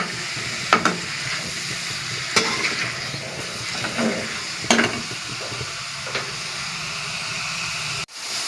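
Over-browned onions frying in a pan for a bottle gourd (lauki) dish are stirred, a steady sizzle punctuated by several sharp spatula scrapes and clinks before a brief cut near the end, no talking.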